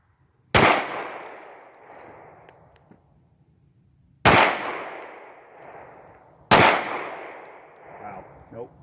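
Three loud, sharp pistol shots from a Canik TP9 SA at an outdoor range, widely spaced, each cracking close by and trailing off in a long echoing decay, with faint background noise between them.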